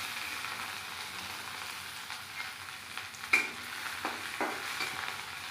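Garlic cloves fry in oil in a wok for a spicy chutney, a soft steady sizzle with a few sharp clicks and scrapes of stirring, close and alone without talk.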